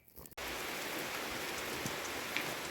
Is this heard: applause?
no